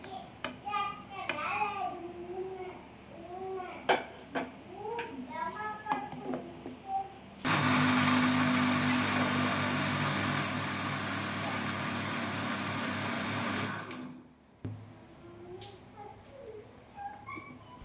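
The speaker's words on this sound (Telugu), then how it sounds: "కట్ చేసుకున్న పీసెస్ను మిక్సీ జార్లోకి వేసుకొని గ్రైండ్ చేసుకోవాలి" Mixer grinder crushing cut mango pieces in a jar, a loud steady whirring burst of about six seconds that starts and stops abruptly, with talk before and after.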